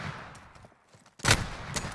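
Hip-fire gunfire in a Call of Duty-style 2v2 gunfight video game: after a quiet stretch, a loud close burst of shots hits hard, then one more sharp shot follows.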